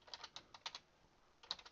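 Keystrokes on a computer keyboard entering a new item into a kennel management system, several quick bursts of clicks separated by a pause, close and fairly quiet with no talking.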